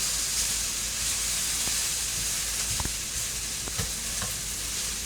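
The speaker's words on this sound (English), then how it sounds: "I have half an onion sliced on the diagonal, A little bit of cabbage that is browning nicely." Diagonally sliced onion and cabbage brown in a pan with a steady, hissing sizzle, broken by a few spatula clinks and scrapes that stand out above the frying.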